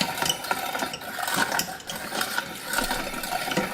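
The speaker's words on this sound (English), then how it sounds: "The good old traditions of food milling your tomatoes" A hand-cranked food mill crushes tomatoes down to skins, giving a close, rapid, irregular ratcheting and clicking of gears under the turning handle.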